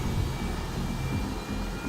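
A Harrier jet engine spools up during startup in Microsoft Flight Simulator, giving a steady, loud turbine roar with a thin high whine over it, heard alone.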